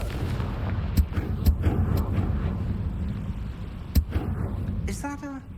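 A blasting spell cast in the Hogwarts Legacy video game, sharp explosive cracks and booms scattered through rumbling game audio, one strong blast near the middle and a voice speaking at the end.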